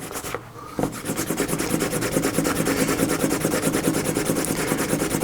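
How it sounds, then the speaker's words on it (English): A burnishing wheel rubs along the edge of a leather belt in quick, rhythmic back-and-forth strokes, a close, steady scraping friction with no voices. "Just take your burnishing wheel, burnishing tool,"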